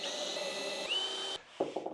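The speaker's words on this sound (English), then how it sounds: "I want to pre-drill the holes" A power drill whines steadily while pre-drilling nail holes in an antique wooden stacking shelf, a loud continuous high-pitched run whose pitch shifts midway before it cuts off, followed by a few short taps.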